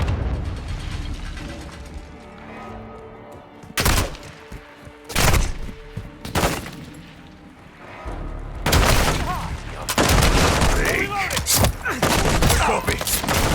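Modern Warfare 2 Remake combat with enemy grenades and gunfire: loud sharp bursts and explosive blasts erupting between quieter stretches of game ambience and music, growing into dense sustained firing toward the end.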